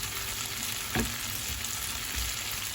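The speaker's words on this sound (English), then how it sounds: "Now the final time we are turning our prawns, and we are going to keep it nice and crispy." Garlic prawns sizzle loudly and steadily in a pan, with a brief scrape and clatter as they are turned to crisp up; close and continuous, no voices.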